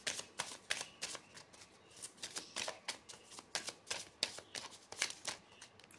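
Oracle cards are shuffled steadily by hand, a close, continuous papery riffle broken by sharp repeated snaps and flicks in an uneven rhythm, fairly quiet and with no voice over it.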